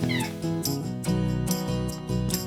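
A house cat meows repeatedly, several drawn-out tonal calls in a row with short gaps, close and clear with no talking over it.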